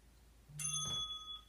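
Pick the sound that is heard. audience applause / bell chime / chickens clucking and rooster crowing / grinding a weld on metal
bell chime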